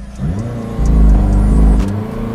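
A 2020 McLaren 620R engine rumbles low and loud, then surges into a stronger, rising roar under launch mode acceleration before easing slightly, with faint higher whines above the engine note.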